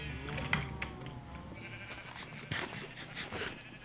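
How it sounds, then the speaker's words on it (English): Sheep in the Minecraft video game bleating in several short wavering calls, close and fairly clear, over a faint background hum. "now the sheep are all escaping"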